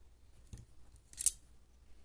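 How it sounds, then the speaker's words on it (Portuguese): Scissors picked up and handled while gathering jewelry-making materials, a soft knock followed by a brief crisp metallic snip, faint and close in a quiet room. "Tesoura"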